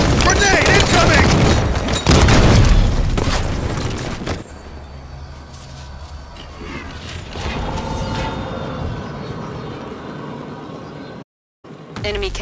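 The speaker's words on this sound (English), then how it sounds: "Grenade incoming!" A grenade explosion in Halo 5 multiplayer on the Sanctum map: a loud booming blast with dense rumbling gunfire, then quieter game sounds and voice lines.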